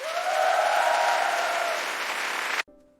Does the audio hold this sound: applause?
yes